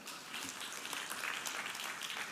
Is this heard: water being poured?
no